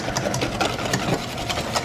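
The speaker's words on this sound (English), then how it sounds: "We're just gonna whisk this till thick." Heavy cream and confectioner's sugar being whisked into chantilly cream with an electric mixer, a loud, steady, close whirring buzz running without pause.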